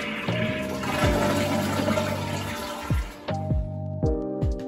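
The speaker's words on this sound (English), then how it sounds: "empty the toilet bowl." A toilet is flushed to empty its bowl after the water supply valve is shut off, a loud rushing swirl of water with gurgles and sputtering drains toward the end, no voices.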